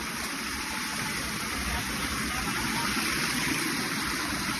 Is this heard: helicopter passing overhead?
no